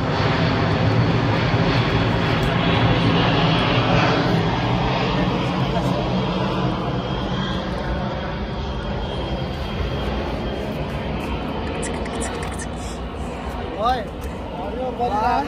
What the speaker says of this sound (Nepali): खतरावाला प्लेन उडिरहेको छ हो यो चाहिँ कुन चाहिँ हो आर्मीको प्लेन जस्तो छ